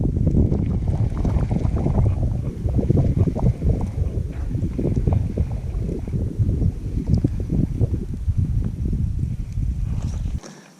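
Wind gusts steadily across a Virginia lake, a loud continuous low rumble with buffeting pulses against the microphone, no voices, ending abruptly.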